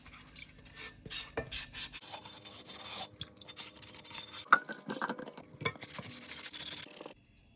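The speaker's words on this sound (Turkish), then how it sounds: "Zımpara ile fazlalıkları yavaş yavaş" Sandpaper rubbed by hand over a plaster-cast vase to smooth off excess plaster, giving steady close scratchy strokes with short pauses, louder in the middle and ending abruptly.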